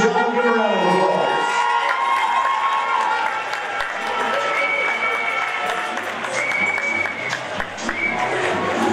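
Audience applause and some cheering at a graduation fashion show fundraiser, a sustained crowd roar that stays strong throughout, with voices mixed in and a few brighter whoops.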